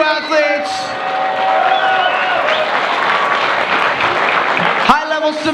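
Loud arena crowd applauding and cheering after a submission grappling bout goes to overtime at a grappling invitational, steady clapping roar with an announcer's voice over it.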